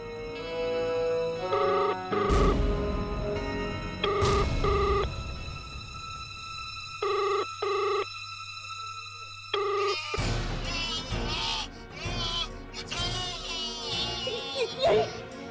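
An old-style telephone bell rings in repeated bursts with pauses between them, fairly close and clear, followed by voices and other busy background sounds.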